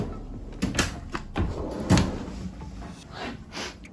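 Drawer-style refrigerator in the salon of a 2022 Regal 36 Grande Coupe yacht being opened and shut, giving a few close, soft thuds and slides with quiet gaps between them and no talk.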